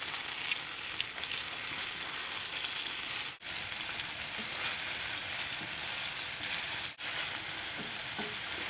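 Hake fish sizzles and crackles steadily in a hot pan over medium heat, a constant bright frying hiss with no voices.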